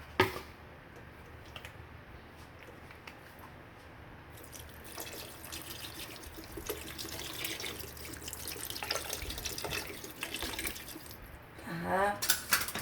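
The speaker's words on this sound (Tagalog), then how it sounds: "lagyan tayo ng water" Water is poured from a tap into a dish of chicken feet for dim sum, a continuous splashing flow that builds in the second half, with faint kitchen clatter near the end.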